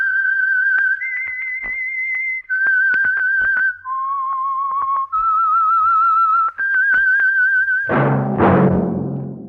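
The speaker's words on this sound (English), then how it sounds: "That whistle is your signal for the Signal Oil Program" A clear, close whistled melody of sustained notes stepping up and down, ending in a sudden burst of broader sound; the theme of a 1947 radio drama.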